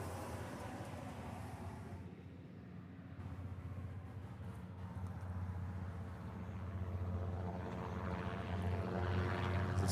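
A Boeing 717 airliner departs from the reef runway at Honolulu, bound for Lihue. Its faint, distant engine roar holds steady, then slowly swells louder toward the end.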